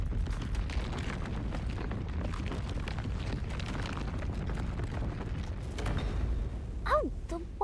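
A sliding wall rumbling in Master Detective Archives: Rain Code, a continuous heavy low grinding rumble that keeps going for several seconds, then eases off as brief game chimes sound near the end.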